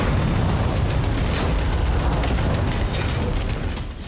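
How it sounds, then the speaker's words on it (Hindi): An explosion destroys a Hezbollah weapons depot in Al Qusayr, Syria: a loud, sustained, broadband roar and rumble fills the whole stretch, easing off slightly only at the very end. "यहां अल कुसर इलाके में हिजबुल्लाह के एक हथियार ठिकाने को धमाके से उड़ा दिया गया।"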